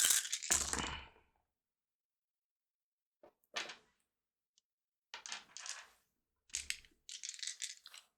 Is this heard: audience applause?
no